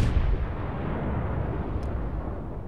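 The main guns of the Scharnhorst battleship fire in World of Warships, one heavy booming salvo at the start rolling into a long, loud rumbling decay that fills the clip.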